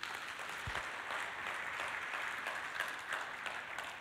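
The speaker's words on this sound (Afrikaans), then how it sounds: "Kom ons gee julle 'n hande klap." A church congregation applauds throughout, a steady and moderately distant wash of many hands clapping with no break, slightly muffled.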